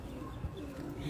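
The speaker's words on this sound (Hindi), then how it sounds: "बड़ी शानदार कबूतरी है जी, लाजवाब कबूतरी है ये।" A faint, low pigeon coo sounds briefly against a quiet background.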